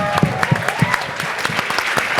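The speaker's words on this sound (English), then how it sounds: "can we just give a round of applause to these amazing ladies?" Audience at an advocacy conference claps loudly and close for a couple of seconds, a dense burst of many hands with sharp individual claps standing out.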